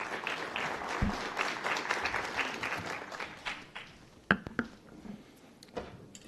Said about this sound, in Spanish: Demos un fuerte aplauso y bienvenidos a nuestros panelistas.